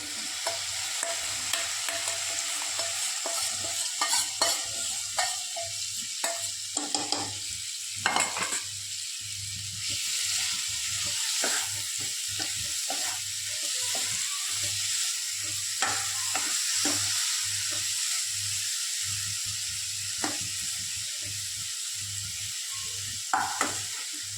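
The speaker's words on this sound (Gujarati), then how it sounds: "હવે તેમાં પેસ્ટમાં મિક્સ કરેલું પનીર સાતળી લઈશું।" Paneer coated in spice paste sautés in hot oil, giving a steady, close sizzle throughout with scattered spoon scrapes and clicks as it is stirred; no one speaks.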